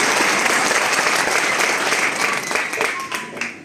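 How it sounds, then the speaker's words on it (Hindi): Sustained applause fills a hall at a motivational talk, a dense steady clapping from an audience that thins slightly toward the end. "इसके लिए ताली बजाओ।"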